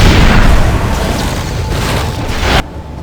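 Grenades detonating in the video game Knights of the Old Republic, a loud, dense roar of booming blasts that fills the clip and cuts off sharply near the end, with no talk.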